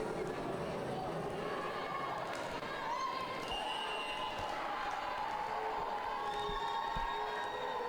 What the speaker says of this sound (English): it looks like the Cape Girardeau crowd is doing the wave